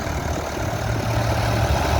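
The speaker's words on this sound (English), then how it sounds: "we have another grey Ferguson tractor, and that's on the back is a potato spinner." A grey Ferguson tractor fitted with a rear potato spinner idles at an old-time rally, a steady close low engine chug with no speech.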